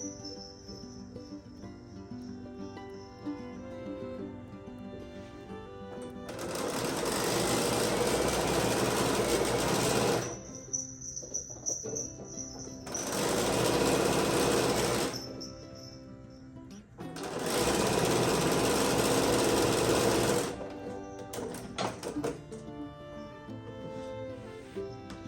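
A sewing machine stitches strips onto quilt blocks for a quilt kit, running in three sustained bursts of several seconds each separated by quieter pauses, with a steady motor whir close by.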